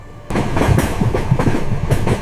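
A train runs on rails near Ella in Sri Lanka, heard from close by as a loud, continuous rumble with a rhythmic clickety-clack of wheels over the track joints and no voices.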